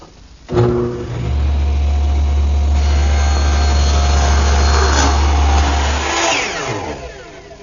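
A power tool, likely a router or table saw, makes a final cutting pass on wooden molding for a plant stand, a loud, steady whine that runs for about five seconds before spinning down.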